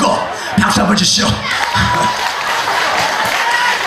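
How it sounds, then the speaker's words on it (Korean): A crowd at an outdoor pumba folk performance at Ulsan's Ilsan Beach claps and cheers nearby, a burst of applause mixed with shouts and chatter. "박수 한번 주시오"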